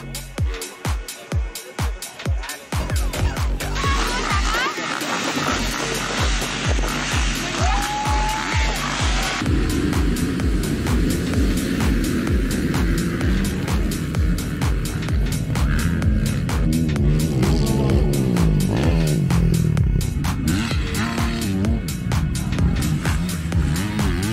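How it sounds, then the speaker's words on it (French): Motocross bikes from the 450 and 250 classes rev hard at a 2023 MX race at Pointe Indienne, a loud continuous engine roar with rising and falling pitch, opening with a few sharp throttle blips. "même quand les moteurs vrombrissent et mettent la pression"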